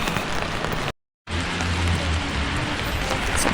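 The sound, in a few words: heavy rain in Stockholm street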